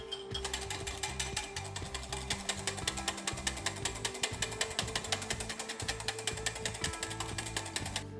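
An electric beater whisks whipped cream with sugar and Disaronno in a bowl for a sweet potato pie topping, a dense, rattling mechanical whir that holds at a fairly even level throughout, with no voice over it.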